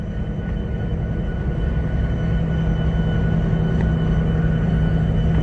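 Steady low rumble of a train interior during a morning ride, continuous and fairly loud with no voices over it.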